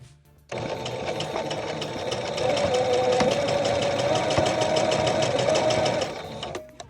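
A sewing machine stitches fleece pieces together, running in a fast, even mechanical whir close by for about six seconds, slightly rising in speed midway before stopping abruptly.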